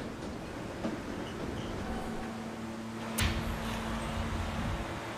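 A local subway train running: steady low rumble and rolling rail noise inside the car, with a faint hum and a sharp squeal or clank about midway, no voices.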